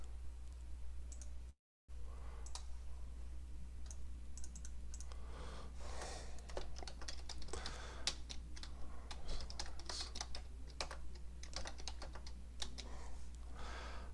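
Steady typing on a computer keyboard, a continuous run of close, crisp key clicks with uneven rhythm, briefly cut by a short gap of silence, with no voices.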